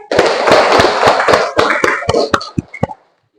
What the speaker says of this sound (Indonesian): Tepuk tangan untuk Ataya